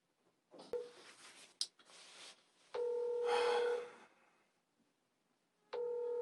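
Telephone dialing a call, with a few quiet taps, then electronic tones and a sustained ringback or line tone that stops and resumes, heard close and alone in a quiet room.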